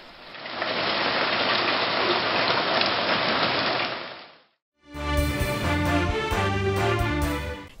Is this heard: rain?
yes